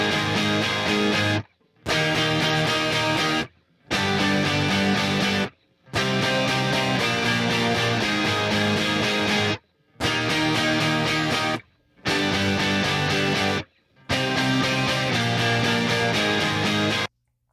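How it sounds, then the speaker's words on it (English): Several layered, slightly distorted pop electric guitars strum a chord progression together in dense sustained blocks, each phrase broken by short sharp silences, loud and full with no voices. "all of those guitars together sound like this"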